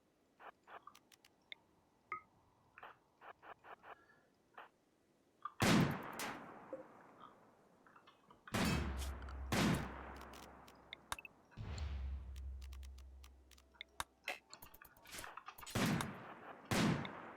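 Turret gunfire in RimWorld, light scattered shots early that give way to louder bursts of rapid fire with booming impacts, broken by short pauses.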